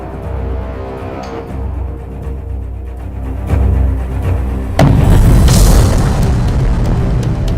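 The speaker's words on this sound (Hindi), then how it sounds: "ये उसी किंजॉल हाइपरसोनिक मिसाइल से अटैक की तस्वीरें हैं जिसने यूक्रेन में जबरदस्त तबाही मचाई है।" A deep boom from a Kinzhal hypersonic missile attack in Ukraine, a low rumbling blast that builds into a louder, broader roar midway with no voices.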